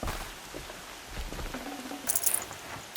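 Rain in Horizon Zero Dawn falls as a soft, steady hiss with scattered patter and a brief brighter rustle near the end, fairly quiet, with no talking.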